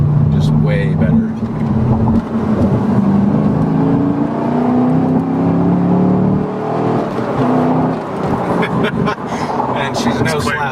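Engine of a track-focused Chevrolet Camaro revving and pulling hard, a loud sustained throaty drone that rises and falls over several seconds, heard from inside the car with people talking over it.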